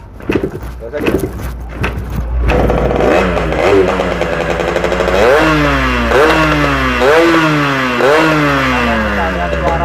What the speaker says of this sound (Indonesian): Knalpotnya suaranya cukup nyaring guys.